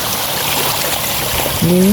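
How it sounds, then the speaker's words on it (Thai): Steady broadband rush of a flowing stream throughout, with a brief tonal sound rising near the end. "บรรยากาศครับน้ำไหลครับ"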